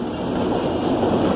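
Strong storm wind of about 49 to 50 miles per hour sweeps over an anchored boat off Norfolk, a loud, steady broadband roar with buffeting and water wash, brief and without speech.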